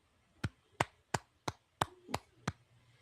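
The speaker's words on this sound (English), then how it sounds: "Pardon me while I stand up and applaud." Seven sharp, evenly spaced hand claps, close and fairly quiet, a slow deliberate single-person applause with no voices.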